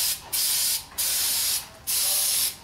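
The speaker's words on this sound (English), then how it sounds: "we're going to spray some brake clean on this hub" Brake cleaner sprayed onto a rusty Toyota RAV4 wheel hub during a pad and rotor job, in three loud hissing bursts of roughly half a second each, separated by short pauses, close to the mic with no talking.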